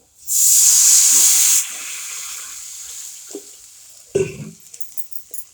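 Water poured onto fried onion with red masala and turmeric hisses in a loud burst of sizzling steam that fades to a softer simmer, with faint clatter afterward.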